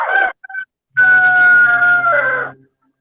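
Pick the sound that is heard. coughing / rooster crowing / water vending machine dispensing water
rooster crowing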